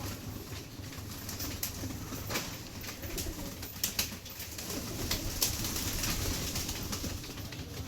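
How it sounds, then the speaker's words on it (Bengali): Pigeons softly coo and flutter as they land to feed, faint and somewhat distant, with scattered wing flaps and clicks over a steady background hum. "বন্ধুরা এই আর একটা পায়রা খেতে নামলো।"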